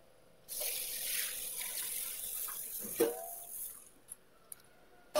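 Running tap water pours and splashes while black gram is washed, a loud rushing stream that starts abruptly, swells with a splashy surge midway, then stops, leaving a few small drips and clinks.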